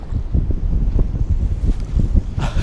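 Strong gusting wind buffets the microphone beside water while pike fishing, a loud, continuous roaring rumble with rustling bursts and no speech.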